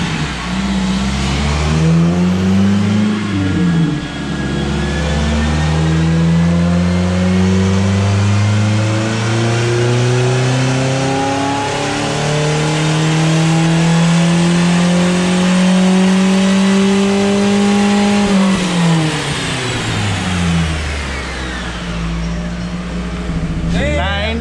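A Jeep Liberty with a 2.4 engine and a small intake revs on a dyno, its loud engine note climbing steadily in pitch through a long pull before dropping back, close and continuous.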